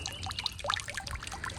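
Water spouts and trickles from a small solar-powered birdbath fountain nozzle, a soft continuous splashing and dribbling with scattered droplet patter, faint and close, with no talking.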